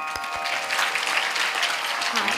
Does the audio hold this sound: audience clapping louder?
yes